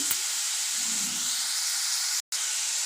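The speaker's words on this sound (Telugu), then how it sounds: "ఉల్లిపాయ పచ్చిమిర్చి బాగా వేగాలండి." Onions and green chillies with a pinch of salt fry in a pan, giving a steady, close hissing sizzle that runs almost without a break and cuts out for a moment near the end.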